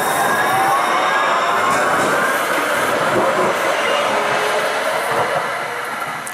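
A train rolling on cold, dense rail tracks before an ice storm, heard as a steady, loud rumble and hiss close by. Faint squeals run through it, and it eases off slightly toward the end.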